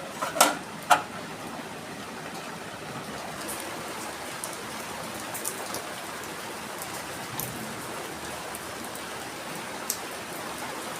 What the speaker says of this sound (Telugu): చక్కగా వర్షం పడుతుందండి.